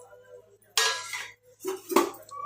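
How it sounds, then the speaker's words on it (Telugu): Dried lentil dumplings drop into a pot of simmering okra stew with a bright metallic clatter, followed after a pause by a couple more clinks of utensil on pan, close, against a low steady hum. "ఇదిగోండి వడియాలు వేస్తున్నాను"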